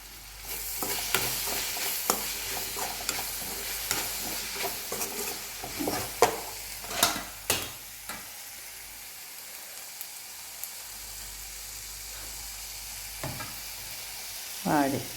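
Something is being stirred and sautéed in a pan while cooking a fish dish, with scraping spoon strokes and light sizzling that come in bursts, then ease off toward a quieter stretch near the end.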